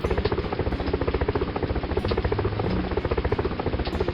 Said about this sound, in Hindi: हेलीकॉप्टर आकर खाने के पैकेट फेंकती है।